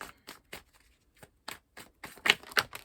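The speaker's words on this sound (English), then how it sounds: "Shuffle the cards." Tarot cards being shuffled by hand, with quiet close riffling and sharp papery snaps in irregular bursts, growing busier and louder toward the end.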